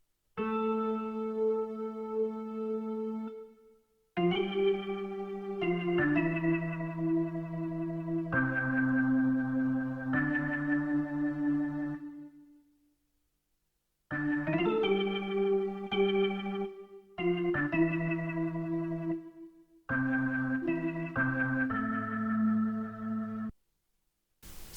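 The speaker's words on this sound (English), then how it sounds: "the organ is also layered with another pad from SRX keyboard" Layered organ and synth pad from an SRX keyboard play sustained chords with shifting harmony in several long phrases separated by short gaps, smooth and moderately loud, with no voices, for a nostalgic R&B sample.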